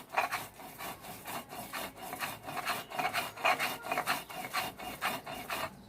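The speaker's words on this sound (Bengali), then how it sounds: "লাউ পাতা ভর্তাটা পাটায় বেটে বেশি মজা হয়।" Bottle gourd leaves being ground on a stone slab for bharta: rhythmic rasping strokes of the grinding stone, back and forth roughly twice a second, close and steady with no voices.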